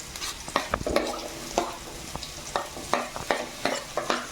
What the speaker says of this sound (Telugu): ఇప్పుడు క్యారెట్ వేస్తున్నాను అనమాట.